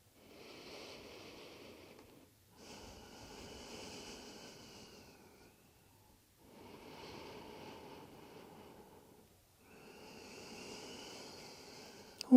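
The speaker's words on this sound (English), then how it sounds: "6 more breaths" Slow, deep breaths during yoga stretching, four long, soft, airy exhale-and-inhale cycles with brief gaps between them, close and quiet with no talking.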